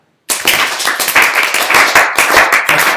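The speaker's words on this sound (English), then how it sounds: "Now let's clap." A small group of people clap together in a classroom or workshop, starting abruptly after a moment of silence and continuing as a loud, dense, steady patter of close handclaps without voices.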